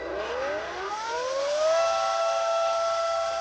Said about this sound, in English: Ryobi water transfer pump. Plugging it straight into our water inlet here.